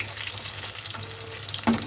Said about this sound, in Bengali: অল্প তেলে ভেজে নিচ্ছি এগুলো